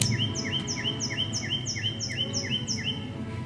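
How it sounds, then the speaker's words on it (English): Birds sing outdoors at sunset during an Easter alfresco dinner setup, repeated bright chirping phrases in a steady rhythm over a soft background hum, fairly near and continuous. "I love how the birds have joined the party out here."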